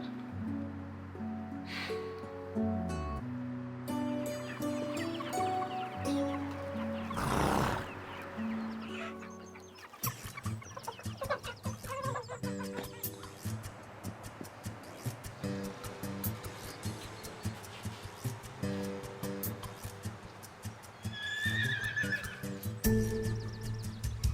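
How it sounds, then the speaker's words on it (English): A horse neighs and whinnies loudly several times, with hooves clip-clopping and chickens clucking nearby in a farmyard setting, the calls rising clearly over a quieter background. "So there's that horse that you love so much."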